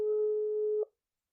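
A steady electronic telephone tone sounds loud and clean for almost a second, then cuts off abruptly into silence.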